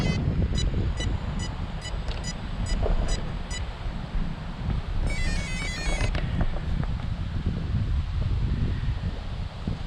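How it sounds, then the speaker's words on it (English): Strong wind buffeting a microphone outdoors, a loud broad rumbling roar that rises and falls in gusts, with a short electronic beeping tone partway through. "I cannot believe the wind is whipping as hard as it is"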